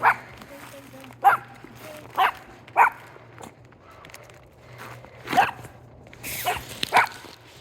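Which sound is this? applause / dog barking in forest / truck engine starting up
dog barking in forest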